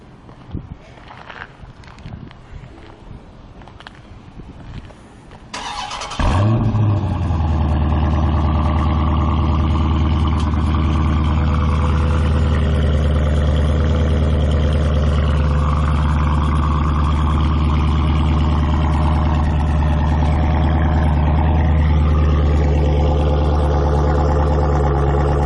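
A 2015 Dodge Challenger R/T Scat Pack is remote started after a few quiet footsteps and small sounds. The exhaust fires up with a loud burst, then settles into a deep, rumbling, steady idle heard close up from the rear.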